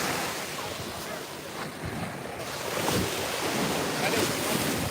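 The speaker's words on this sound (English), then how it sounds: "So I'm showing you guys the beach." Ocean waves roll onto Jabaquara Beach in Ilhabela, Brazil, a steady loud surf wash mixed with wind buffeting the microphone, swelling slightly toward the end.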